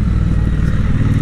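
Triumph Bonneville Speedmaster motorcycle accelerating hard, a loud, close, throbbing twin-cylinder roar with rapid pulsing exhaust beats throughout the short burst.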